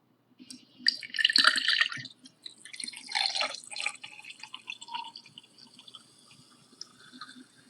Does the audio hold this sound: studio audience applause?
no